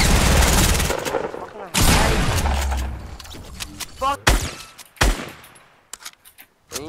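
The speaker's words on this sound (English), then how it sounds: "I'm getting shots from elsewhere." Rapid bursts of gunfire in Fortnite Battle Royale, loud close volleys at first, then scattered sharper shots trailing off, mixed with a player's excited voice.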